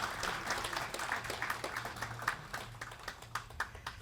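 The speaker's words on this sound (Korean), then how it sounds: "박수로 환영해 주세요." Audience applause welcoming the mayor of Gwangju at an AI talk, faint and somewhat distant steady clapping with individual claps standing out, no clear talk over it.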